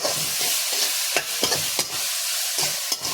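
Onions sauté in a pan as they are browned for a recipe, giving a loud, continuous sizzle punctuated by repeated spatula scrapes and stirring knocks, with no one talking.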